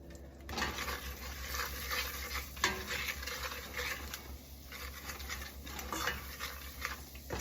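Flour for a roux is stirred in a pan with a spoon, giving soft, steady scraping and light sizzling at a low volume, with a few clinks of metal.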